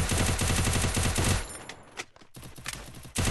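Rapid bursts of video game gunfire, a fast rattling stream followed by a few separate sharp shots, loud and close with brief pauses between.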